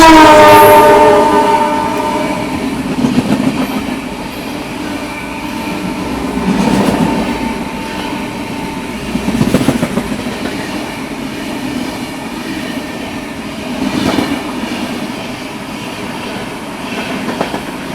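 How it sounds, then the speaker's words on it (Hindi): A train on the adjacent track departs and overtakes at night, opening with a long horn blast and then rolling past in a steady rumble with recurring swells of wheel and carriage noise; no one speaks. "बगल वाला ट्रैक में जो ट्रेन है तो उसका डिपार्चर हो चुका है"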